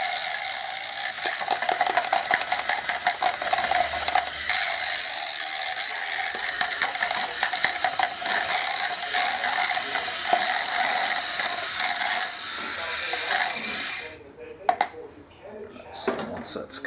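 A whisk works pretzel dough in a bowl, giving rapid, rhythmic clicking and scraping that runs steadily before breaking into scattered knocks near the end.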